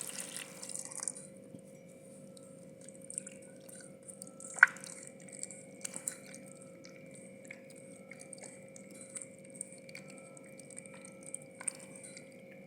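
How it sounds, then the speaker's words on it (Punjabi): Cherries being washed in water for murabba, with soft drips, small splashes and wet squishing at close range, quiet and irregular against a steady low background hum. "ਹੁਣ ਆਪਾਂ ਇਹਨੂੰ ਧੋਵਾਂਗੇ ਪਾਣੀ ਪਾਵਾਂਗੇ ਵਿੱਚ"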